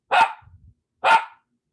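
Two sharp dog barks, about a second apart, loud and close, with a faint low rumble between them.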